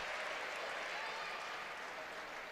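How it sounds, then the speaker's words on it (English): Applause from the crowd in a college fieldhouse during an NCAA women's volleyball tournament match, a steady, fairly soft wash of clapping that holds evenly throughout and fades slightly near the end. "Bates gets a round of applause."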